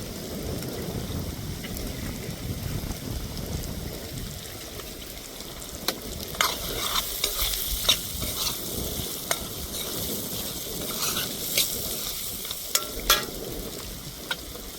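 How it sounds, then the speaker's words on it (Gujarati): Potatoes fry in oil with a low steady sizzle, and a spoon scraping and stirring gives sharp clinks and scrapes through the second half, heard close with no talking. "મિત્રો આપણે થોડીક વાર બટાકાને તેલમાં આપણે ચડવા દઈશું"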